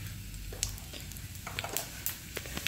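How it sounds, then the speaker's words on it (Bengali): Dry red chilli and cumin seeds sizzle in hot oil in a wok, with a soft steady crackle, a few sharper pops and spatters, and faint clinks from stirring. "দেন কড়াইতে দিয়ে দিলাম একটু শুকনো লঙ্কা, মানে একটা শুকনো লঙ্কা, আর খানিক জিরে"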